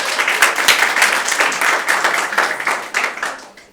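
An audience at an interview event for a medical-entrance achiever breaks into applause, a dense, lively clapping from many hands that stays strong and then tapers slightly toward the end.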